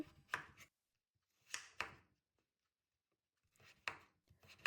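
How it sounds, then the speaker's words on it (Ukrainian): A knife strikes a cutting board, cutting potatoes into large cubes in small clusters of quick chops, separated by quiet pauses, close and crisp. "Картоплю я нарізаю на крупні кубики"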